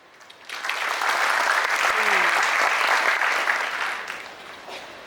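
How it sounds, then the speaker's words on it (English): A large college-festival audience bursts into applause for the event's sponsors, clapping swelling quickly, holding loud and full, then tapering off toward the end. "Let us all give a thunderous round of applause to acknowledge the incredible support of our sponsors."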